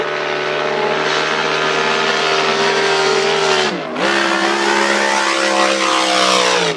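A high-revving racing boat engine, a blown lite hydroplane on hot laps, screams steadily, briefly dips as the gear changes, then climbs again with a loud, sustained whine.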